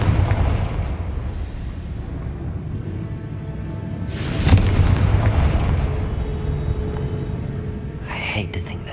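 Confringo blasting spell in a video game: a heavy boom lands midway over a rumbling battle bed, with scattered pops and a brief burst near the end, and a voice speaking over it.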